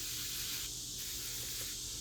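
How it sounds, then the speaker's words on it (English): A steady hiss of a spray bottle misting coneflowers planted in grow bags in a woodland garden, close and continuous with slight pulses. "So I'm going to spray those a little bit."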